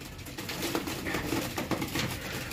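Racing pigeons back at the loft after a 50 km club training flight in Bulacan give soft, repeated low coos and murmurs close by, layered over a busy background hiss.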